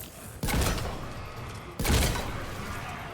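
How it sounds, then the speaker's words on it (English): Two heavy shotgun blasts from a Mass Effect 3 firefight, each a loud booming crack followed by a ringing tail, spaced about a second and a half apart. "Maybe I should use the shotgun."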